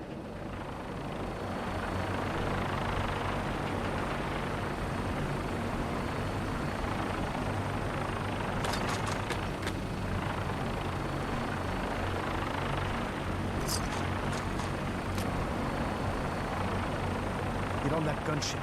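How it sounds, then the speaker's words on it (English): A vertibird aircraft from the video game Fallout 4 drones with a steady, loud rotor and engine roar throughout, joined by brief high clicks and beeps partway through. "we have a vertibird on standby, fully armed and ready to depart"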